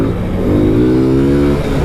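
A Kawasaki Z125 Pro, a small motorcycle, revs hard during a wheelie, its engine rising steadily in pitch, loud and close, before easing off at the end.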